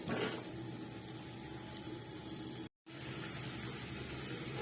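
Water is poured into an aloo dum potato curry whose spices are being fried down: a steady, soft rushing flow with one brief gap, close by and fairly quiet, with no talk.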